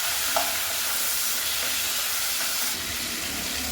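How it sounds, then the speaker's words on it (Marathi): Tomatoes frying in oil in a home kitchen pan, a steady close sizzle and crackle with light stirring scrapes, continuous and fairly quiet throughout. "आता इथं टोमॅटो चांगला लालसर कलर येईपर्यंत तेलात असा तळून घेते"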